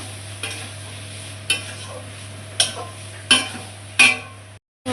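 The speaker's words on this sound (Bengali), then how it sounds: "ভালো করে নেড়ে চেড়ে আর একটু কষায় আমি জল দিয়ে দেবো" Pea filling for matar puri being stirred in a pan, with a spoon or spatula scraping in five or six distinct strokes over a light sizzle and a steady low hum, with a brief silence near the end.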